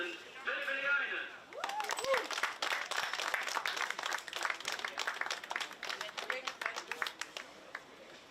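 Applause greets the DD2 weekend winner at a Rotax Euro Trophy karting round in Mülsen: a crowd claps steadily and densely for several seconds, quite loud, with a voice over a PA speaking at the start.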